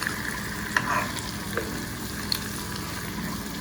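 Pork chops fry in a pan with a steady, close sizzle and a few brief clicks or taps from the pan, with no talking.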